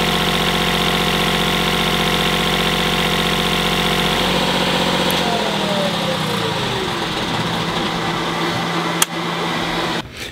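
Old trawler diesel engine idling after a fuel filter change, a loud steady close drone in an engine room that winds down partway, with a sharp click near the end.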